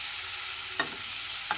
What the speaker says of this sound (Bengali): মানে একটু নেড়ে নেব।